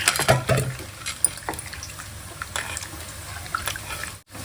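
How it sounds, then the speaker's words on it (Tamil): Tamarind water pouring and splashing into a cooking pan, with a few drips and clatters, close by and without talk. "புளி தண்ணி ஊற்றிக்கிறேன்"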